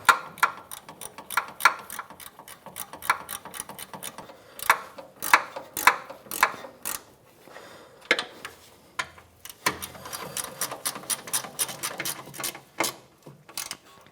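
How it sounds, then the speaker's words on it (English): A ratchet tightens sway bar bushing bolts on a 2007-2013 Acura MDX, crisp pawl clicks in uneven bursts of quick strokes with brief pauses, close and clear. "ratchet"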